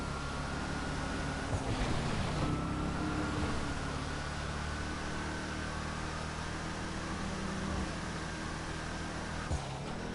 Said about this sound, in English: The car sounds fairly good for the most part, although I think it should sound a lot better.